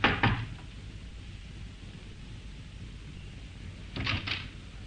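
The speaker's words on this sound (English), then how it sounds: "But instead, he knocked." Knocking on a flat's door in an old radio drama: a brief cluster of knocks at the start and another pair of firm raps a few seconds later, against a quiet hissy background.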